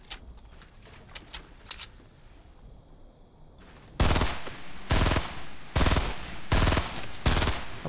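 Automatic gunfire in Fortnite Battle Royale: five loud, rapid bursts of about half a second each, separated by short pauses, after a few faint shots earlier on.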